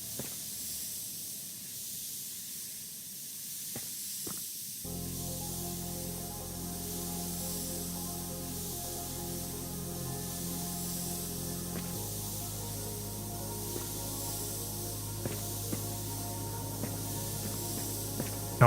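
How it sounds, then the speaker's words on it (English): Forensic spray in the video game Forensics: Crime Scene Detective hisses in a long, soft, continuous stream, faint and steady, over a low hum, with a few light clicks. "We'll just place it right there so I can spray more."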